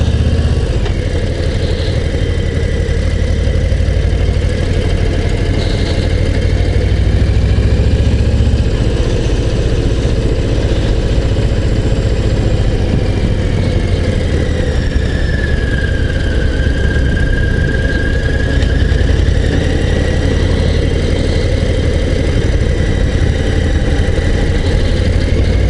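A Harley-Davidson Low Rider ST motorcycle engine running steadily and loud throughout, a deep continuous rumble with a faint higher whine drifting over it, no talking.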